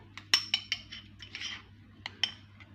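A spoon stirs avocado salad in a bowl, giving a run of light metallic clinks and scrapes against the dish. The clinks come at an irregular pace in a quiet room.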